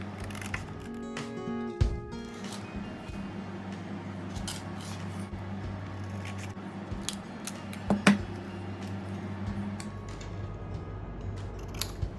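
Scissors snip through white chart paper, cutting it into pieces of different sizes with a steady series of close, crisp cuts over a low background hum.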